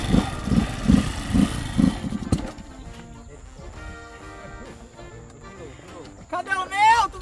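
A motorcycle engine idles with a low steady putter under someone talking, then continues more quietly on its own before more voices return at the end.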